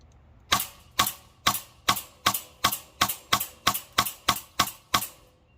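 Airsoft BBs strike wire mesh eye protection in a steady string of about twelve sharp metallic ticks, evenly spaced roughly half a second apart, crisp and close with no voices.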